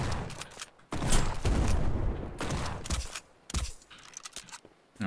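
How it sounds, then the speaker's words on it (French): A pump shotgun fires in a video game: a string of loud, sharp blasts separated by short gaps, each ringing out briefly before the next shot. "Mais voir le pompe, il tire comment?"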